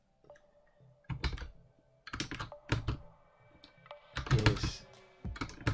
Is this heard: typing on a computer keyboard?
yes